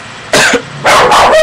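A pet dog barks indoors, one sharp bark followed by a pair of louder, closely spaced barks, close and loud with no talking.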